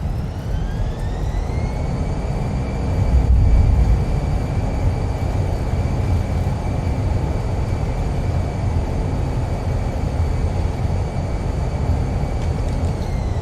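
An airliner in Microsoft Flight Simulator rolls out after landing with thrust reversers deployed, giving a loud, steady engine roar with rising whine tones. A slight swell early on then settles into a constant rumble.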